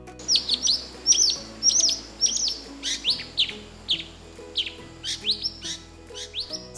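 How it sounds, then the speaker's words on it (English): An Oriental magpie robin sings a varied, lively phrase of sharp whistles and chirps, repeated in bursts, close and clear, with faint low background hum. "It sings long and variety of songs around spring by sitting on the top of trees and"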